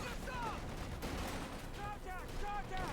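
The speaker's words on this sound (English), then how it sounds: "There we go, light machine guns again here." Light machine gun fire in Company of Heroes 2, a World War II strategy game, crackling in continuous bursts throughout under a steady layer of battle noise and whistling shots.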